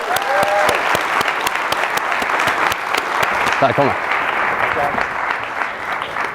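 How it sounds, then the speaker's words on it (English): A late-night talk show audience at the Stockholm School of Economics gives guests a loud, dense round of applause that keeps going throughout, while a voice briefly speaks over it. "Give them a big round of applause"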